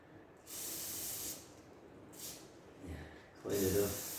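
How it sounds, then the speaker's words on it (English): Cleaner sprays in short hissing bursts onto a power steering rack boot under a car, close by and fairly quiet, with three or four separate squirts. "I'm just going to try and spray"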